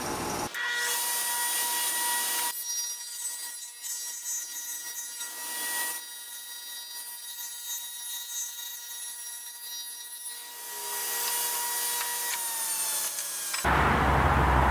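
A power saw trims a wooden piece for a shop stool: a loud, high whining cut that rises and falls in bursts over several seconds, with no voices, ending as the blade winds down.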